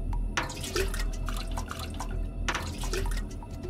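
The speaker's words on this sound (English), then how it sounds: "Woo, water the plant." Water trickles and drips as a plant is watered in a video game, a soft continuous pour with a few brighter splashes over a low background hum.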